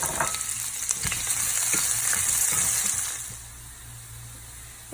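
Chopped onion hits a hot frying pan with a loud, steady sizzle and crackle, part of cooking jackfruit with soaked split chickpeas; the frying hiss stays strong, then drops to a quieter simmer near the end, with no voices.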